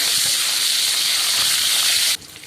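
Black cumin seeds and three or four green chillies hitting the hot oil left from frying aubergine, a loud, steady, close sizzling hiss that cuts off abruptly near the end, leaving only a faint murmur.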